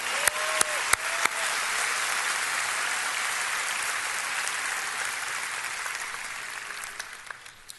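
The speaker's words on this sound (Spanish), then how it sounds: "Un aplauso." Sustained audience applause with a few sharp individual claps at the start, steady and fairly loud throughout, greeting a birthday announcement at a comedy show in Lakewood.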